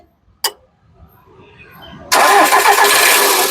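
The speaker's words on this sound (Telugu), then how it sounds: "ఓనర్ దగ్గర నుంచి తెచ్చినటువంటి కారు ఒకసారి స్టార్ట్ చేయి" A 2011 Volkswagen Vento Highline engine cranks briefly and fires on a single start, settling into a loud, steady idle close by after a short click and some quiet rustling.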